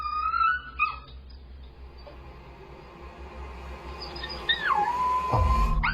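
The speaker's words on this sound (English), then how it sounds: "Then he starts howling." A caged puppy whines and then howls, with a thin rising-and-falling wail that slides downward and holds a steady tone, fairly close and clear over a low background hum.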